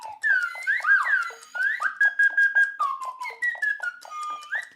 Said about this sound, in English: I think I need a little bit of a slide whistle to energize myself.